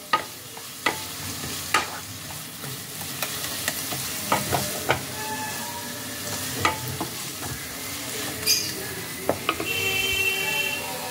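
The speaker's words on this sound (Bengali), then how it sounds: "গরম মশলার গুঁড়োটাকে ভালোভাবে মিশিয়ে নিতে হবে।" Garam masala powder being stirred into a radish and prawn curry in a pan, with a steady frying sizzle broken by repeated scraping strokes of the spoon across the pan, close and clear.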